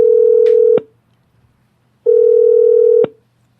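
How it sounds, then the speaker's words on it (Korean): Telephone dial tone on a call being placed, heard as two loud, steady single-pitch beeps of about a second each with a short gap between them, plus a brief click at the end of each beep, and no talking. "제가 친절하게 전화 연결해 보겠습니다."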